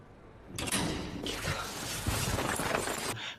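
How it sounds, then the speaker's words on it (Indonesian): A door swings open with a creaking scrape and a dull thump, close by, the noise filling the few seconds before cutting off. "terdengar suara Ivan membuka pintu."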